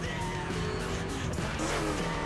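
A Chevrolet Camaro SS engine in the racing video game The Crew drones and revs steadily with a hint of tire squeal, a continuous mechanical roar throughout the short stretch.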